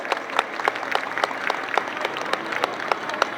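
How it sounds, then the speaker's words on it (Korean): An audience at a Korean launch presentation for the game MW3 applauds, giving a moderate, even patter of many hands with scattered sharper individual claps, heard alone without talk. "다시 한번 큰 박수 부탁드리겠습니다."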